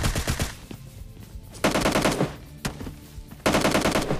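Bursts of automatic gunfire from a firefight in the battle royale game PUBG Lite, several loud rapid volleys separated by short pauses with a few single shots between them.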